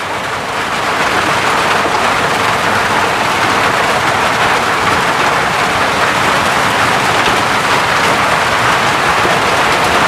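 Heavy rain falls as a steady, loud, even hiss, continuous and unbroken with no voices.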